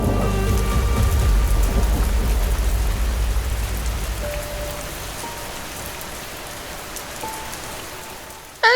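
Heavy nor'wester rain pours steadily at night with a deep rolling thunder rumble at the start, the downpour loud and dense throughout before easing slightly.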